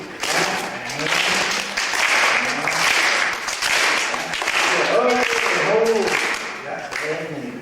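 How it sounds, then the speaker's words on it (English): At a school assembly with an old-time ragtime musician, the audience claps together in loud, ragged bursts alongside a voice talking and singing, with the applause rising and falling across several seconds. "Now, see if we can clap."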